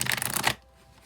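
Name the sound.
shuffling a deck of tarot cards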